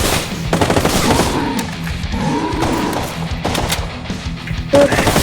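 Rapid automatic gunfire from a machine gun in the shooter video game Demonolition, dense overlapping bursts running loud and steady through the whole stretch with a few heavier thuds.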